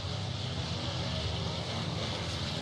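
Wright-engined World War II aircraft with very short exhaust stacks, a steady, loud, rough engine drone with low-frequency rumble held throughout, distant-to-mid range at an airshow.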